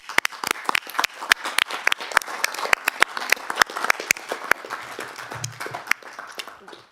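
Applause from the gallery at a council meeting, made of sharp individual claps in an uneven rhythm, moderately loud and close, tapering off toward the end.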